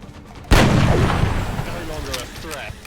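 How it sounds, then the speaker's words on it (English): A single loud, close gunshot blast from the XCOM Long War video game rings out after a brief quiet, then rolls into a long echoing decay. "Shoot them all down!"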